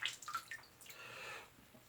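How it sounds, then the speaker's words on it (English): A shaving brush is shaken out, flicking a few quick, faint water drips and splashes in a quiet room. "so let's shake out the brush"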